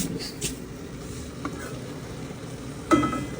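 Chili frying in oil on a home stove, a soft low sizzle with a few light scrapes and a brief clatter near the end, close and fairly quiet.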